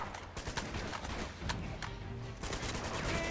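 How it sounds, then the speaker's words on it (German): Gunfire shootout in Uncharted: Drake's Fortune video game: dense bursts of rapid shots and machine-gun rattle crackling continuously, loud and close, with no voices. "Und jetzt geht die Schießerei los."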